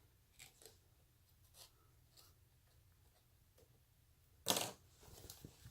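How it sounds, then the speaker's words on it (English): Scissors snip sewing threads beside a zipper on a fabric crossbody bag: a few faint close clicks, then one sharper, louder cut near the end, in a quiet room. "I'll clip these threads."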